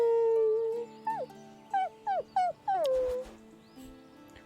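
A dog in the Viking survival game Dead In Vinland lets out a long howl followed by a run of short rising whimpers and yips, close and clear, with no talking over it.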